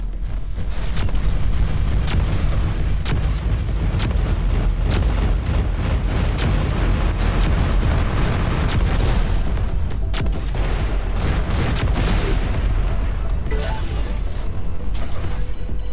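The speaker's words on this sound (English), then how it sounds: "it almost feels like the enemies are like shooting at us with like very heavy rounds" Heavy enemy rounds pounding in a space-combat game, Everspace 2: dense, continuous booming fire and explosive impacts packed tightly together, loud and unbroken for the whole stretch with no talking.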